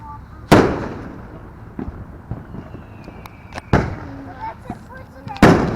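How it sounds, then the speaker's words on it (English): Leftover Fourth of July fireworks going off outdoors: three sharp, loud bangs spaced a few seconds apart, with smaller pops and crackles between them, while people talk nearby. "These were some great fireworks."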